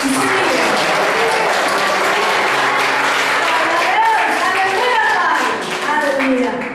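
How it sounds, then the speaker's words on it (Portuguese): A church congregation applauds loudly and close by, a thick, continuous roar of clapping hands while voices sing and call out over it, easing slightly near the end. "Dá uma grande salva de palmas ao Senhor."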